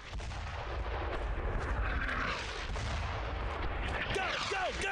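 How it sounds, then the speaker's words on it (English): Mortar fire in Brothers in Arms, a World War II shooter game: a continuous heavy rumble of battle with booming impacts and distant gunfire, dense and loud throughout, with faint whistling sweeps near the end. "That's the mortar, I guess,"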